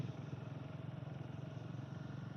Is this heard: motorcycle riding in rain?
yes